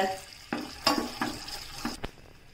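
Sugar caramelizing in a pan for rava pudding, stirred with a utensil that gives several distinct scraping knocks against the pan over a soft sizzle, with no talking.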